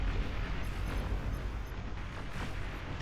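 A deep, rumbling Fat Boy artillery explosion in the game Beyond All Reason fills the clip with sustained broadband roar, heavy impacts, continuous and loud without speech.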